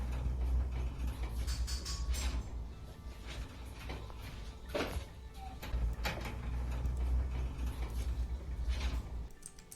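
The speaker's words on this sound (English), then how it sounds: "Sounds like an old washing machine." Mechanical whirring and clunking like an old washing machine, a steady low rumble overlaid with creaks, ratcheting clicks and gear-like rattles, close and continuous, with faint talk in the background.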